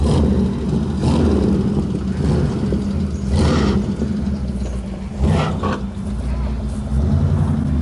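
A V8 car engine idles with a deep burble and then revs in several short, sharp bursts close by, with people talking faintly underneath.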